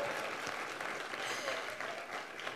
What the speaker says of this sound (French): Oh, ça mérite une main d'applaudissement quand même.